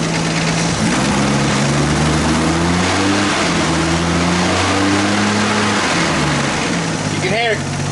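A Nissan R32 Skyline GTST engine with a suspected knock is revved up and down, its loud, rising and falling tone steady throughout, and a voice speaks briefly near the end.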